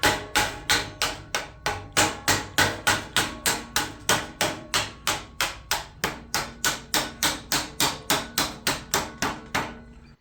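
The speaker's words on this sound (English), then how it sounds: "taking our thumping stick here, and we're just going to hammer her down flat" Steady hammering on an HVAC sheet metal seam to flatten it, about two dozen sharp metallic strikes in an even rapid rhythm, close and loud with no talking.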